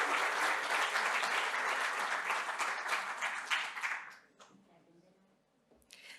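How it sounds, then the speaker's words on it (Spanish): An audience at a business conference panel applauds, a dense burst of clapping for about four seconds that fades out, then brief quiet with a few faint sounds. "Un aplauso, por favor"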